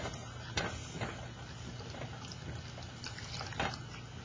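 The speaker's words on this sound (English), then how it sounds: "we will add in the water while stirring." Water is poured into a pot and stirred while making homemade play dough, soft liquid sloshing with scattered drips and light taps of the spoon, fairly quiet and close.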